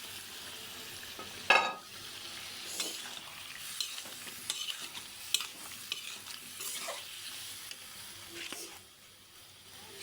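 Chopped vegetables being stirred into a sautéed spice paste for a fish curry with tomato, potato and eggplant, giving soft sizzling and spatula scrapes in bursts, one louder clatter early, at close range with no talk.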